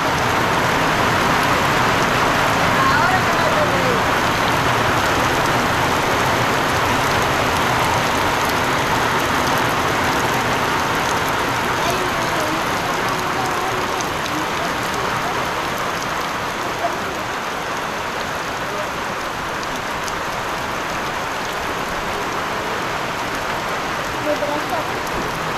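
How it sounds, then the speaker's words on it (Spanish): Steady rain drums on the roof of a rural countryside kitchen, a dense continuous hiss that holds at an even, fairly loud level throughout with no voices standing out. "vemos que la lluvia entra aquí a la cocinita"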